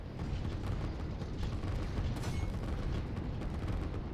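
In the Line War strategy game, artillery pieces firing on tanks form a dense, continuous barrage of low rumbling booms and crackling impacts, loud and steady throughout, with no talking.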